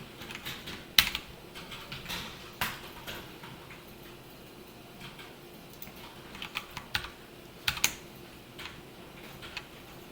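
Typing on a computer keyboard while coding, clustered clacks and key taps in irregular bursts with a few louder presses, close and unaccompanied by speech.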